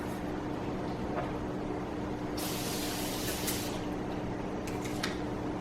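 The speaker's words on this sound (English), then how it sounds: "It's continuous spray, it's not pump." Evian facial spray mist from a continuous-spray can, a soft hissing burst of a few seconds over quiet room background, faint and close.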